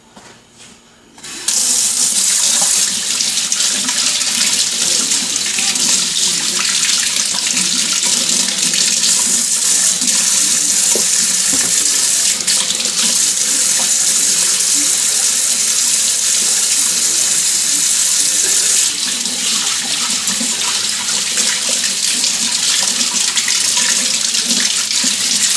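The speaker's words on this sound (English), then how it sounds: "Okay, let me clean my hands." A tap runs steadily at full flow into a sink for washing greasy hands, a loud, close, continuous splashing rush that starts abruptly after a brief quiet moment and carries on without pause, with no voices.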